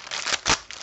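Close, loud crinkling and tearing of the paper packaging of a pack of Stamperia die cuts, a brief burst of rustling as it is pulled open.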